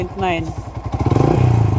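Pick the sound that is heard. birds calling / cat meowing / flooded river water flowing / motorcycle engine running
motorcycle engine running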